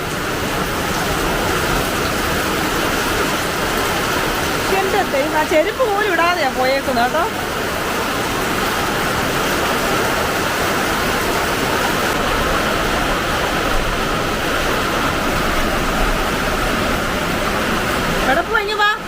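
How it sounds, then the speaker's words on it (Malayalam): Heavy rain pours down in a dense, constant roar that stays loud and even throughout, with voices speaking over the downpour. "അടിപൊളി മഴ, അടിപൊളി മഴ."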